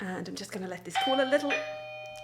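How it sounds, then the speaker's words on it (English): A two-tone doorbell chime rings out clearly after someone speaks briefly, its notes lingering and fading away. "And that was our doorbell."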